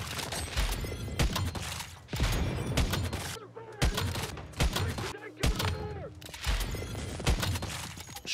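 Loud, rapid video game gunfire comes in repeated dense bursts separated by brief silent gaps, with crackling impacts between the volleys.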